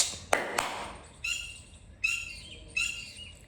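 Small bird chirping indoors during a skincare chat, a few sharp bright calls at first and then three short twittering bursts spaced about a second apart, moderately close with quiet room tone.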